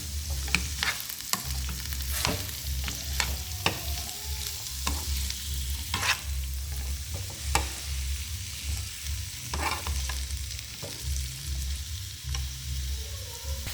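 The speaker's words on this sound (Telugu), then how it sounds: "వీటిని ఒకసారి మనం కలుపుకుందాం." Snake gourd pieces frying in oil with tempering spices are stirred in a pan, a continuous close sizzle punctuated by repeated sharp spoon clacks and scrapes against the metal, with no talking.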